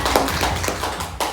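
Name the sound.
applause, hands clapping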